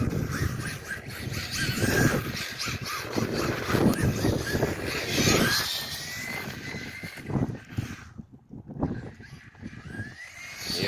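A Kyosho Fazer Mk2 RC truck with a 2021 Toyota Tundra body and a brushless motor drifts outdoors in cold weather. Its motor whines and rises in pitch as the tires scrub, under steady wind rumble, then briefly drops away.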